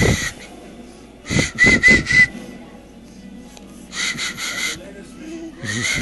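A few short whistled notes in two bursts, with soft voices and household noise around them.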